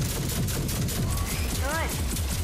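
Rapid automatic gunfire from a sci-fi shooter game, Rage 2, a steady dense burst of repeated shots running throughout with electronic whine effects rising near the end, loud and continuous with a voice speaking over it.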